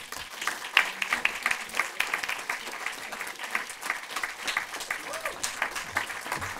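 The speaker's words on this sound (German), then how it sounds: "Dein Applaus." An audience at a German film event applauds to welcome a film director, a steady, moderately distant wash of clapping with a few voices faintly underneath.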